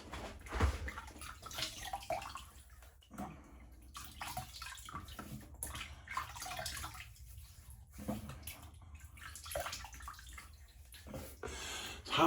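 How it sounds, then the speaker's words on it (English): Water splashes in irregular handfuls as a face is wetted over a basin, with running-tap wash, drips and close gurgling through the stretch and no speech. "Let me get my face wet here."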